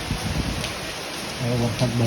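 Heavy rain pours down steadily during a downpour that has sent floodwater into houses in a residential society in Vadodara, a dense continuous hiss, with a voice briefly speaking over it near the end.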